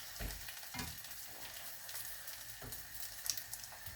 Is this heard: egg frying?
yes